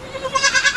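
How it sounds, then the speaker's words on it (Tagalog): One of the oldest goats on a Filipino small farm gives a single short bleat, close and moderately loud, rising and wavering over less than a second. "Yung kambing na to, isa to sa pinakamatagal na kambing dito sa atin."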